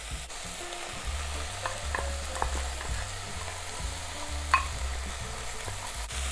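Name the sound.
stirring cumin and spices cooking in pot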